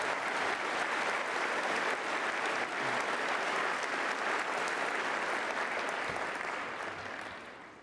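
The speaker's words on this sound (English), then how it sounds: "Why don't we give them a round of applause?" Sustained audience applause at the 9/11 Memorial Museum opening ceremony, a dense, even roar of many hands clapping that holds steady for several seconds before tapering slightly at the end.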